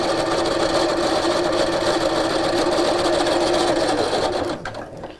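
A sewing machine stitching rows with shirring elastic runs in a steady close mechanical whir, then slows and stops at the end.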